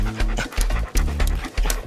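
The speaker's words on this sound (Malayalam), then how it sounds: "അയ്യോ പട്ടി" A dog pants close by, quick rhythmic breaths in short bursts with brief pauses between them.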